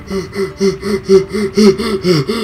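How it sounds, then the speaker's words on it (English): A person yawns repeatedly in rhythmic, breathy gasps while gaming, several drawn-out vocal breaths close to the microphone, with no talk. "Stop making me yawn."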